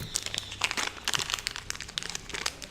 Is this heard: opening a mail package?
yes